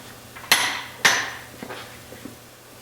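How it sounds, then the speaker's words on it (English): Metal tool clanks on a Porsche 915 transmission while its input shaft nut is tightened to torque, two sharp ringing strikes followed by a few fainter taps, close and alone. "So first I'm going to tighten the input shaft nut."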